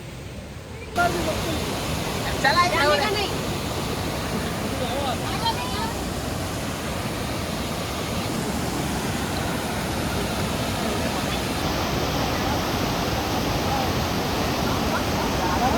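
Kumbhe waterfall in Maharashtra pours down in a steady, loud, broadband roar that runs unbroken throughout, with faint voices briefly audible early on.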